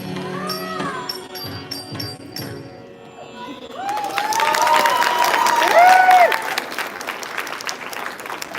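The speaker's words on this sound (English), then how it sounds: "That one had the loudest round of applause." Loud audience applause with cheering after a Bharatanatyam dance performance, swelling to a peak about two-thirds through; singing voices are heard at the start before the clapping.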